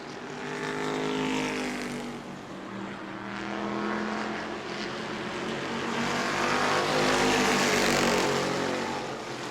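Superstock race cars roar around the New Smyrna track during a Hoosier Series race, engine noise swelling and fading continuously as cars pass, loud and steady throughout.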